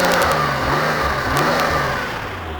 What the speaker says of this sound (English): We'll give it a rev, see what it sounds like.